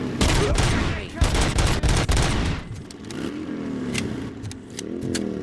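Automatic gunfire in the video game Rogue City during a Street Vultures turf fight, several dense bursts of rapid shots in the first few seconds, then a lull filled with a revving engine rising and falling.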